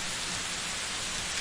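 Steady, dense hiss of rain falling in a cartoon scene, continuous and fairly loud with no voices.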